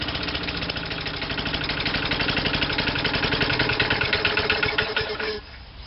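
Worn Tecumseh small engine runs rough, a close, loud, rapid chugging idle with uneven knocking pulses, then the sound drops sharply near the end as the engine stalls.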